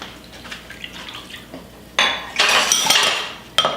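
A whisk scrapes and clinks against a metal pot while making turkey pot pie filling, with light taps at first, then louder bursts of rapid metallic rattling and stirring near the microphone.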